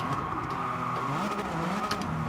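Suzuki Escudo Pikes Peak race car in Gran Turismo, its engine howling steadily under hard acceleration with shifting tones and brief tire noise.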